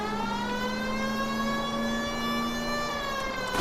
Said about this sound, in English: I hate this siren.